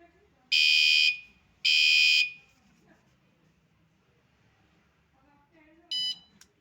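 A wireless security alarm for car, bike or shop shutter gives two long loud beeps, then after a pause a short beep while a new remote is being paired, with faint speech in between.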